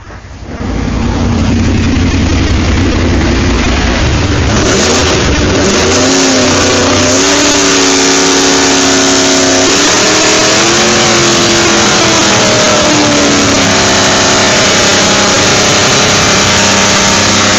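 Rebuilt LS7 V8 in a Mosler firing on its first start, then idling loud and close with rising and falling revs, the engine note sweeping up and down under steady exhaust roar.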